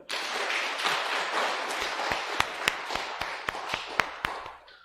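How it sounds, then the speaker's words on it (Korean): A church congregation at a Sunday worship service breaks into a burst of applause, a dense clapping wash that thins toward the end into a few louder, distinct claps before stopping. "우리 박수 한번 보내드릴까요?"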